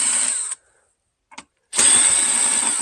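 A power driver backs self-tapping screws out of a Poolmate Hydro 4 pool device in two loud whirring bursts, separated by a silent gap with a brief faint blip partway through.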